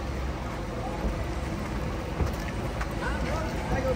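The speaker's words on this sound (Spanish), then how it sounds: "¡Está lloviendo!" Rain falling as a steady, moderately loud broadband hiss of drops, continuous throughout with faint voices in the background.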